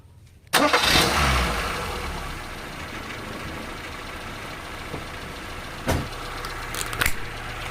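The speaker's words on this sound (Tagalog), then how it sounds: "Okay, i start ko ngayon yung makina." A Kia Pride car engine cranks and catches with a loud burst, then settles into a steady idle, with a couple of brief revs near the end.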